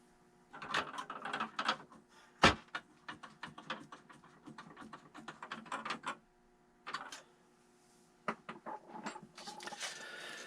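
Plastic Dalek model parts being screwed together without glue, heard as a quiet, irregular run of small clicks, ratcheting ticks and scraping handling noises, with one sharper knock partway through.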